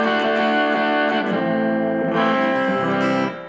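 A guitar played through a distortion effect plugin gives a crunchy, saturated tone. It holds sustained chords that shift pitch twice before cutting off, with no talking over it.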